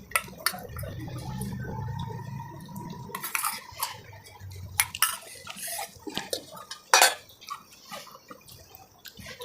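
Utensils clinking and scraping on dishes while chicken is served, close sharp metallic clinks and taps in irregular bursts after a brief run of softer clattering, with no talking.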